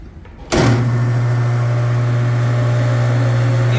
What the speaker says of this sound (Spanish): ya sacamos la faja y nuevamente vamos a prender la licuadora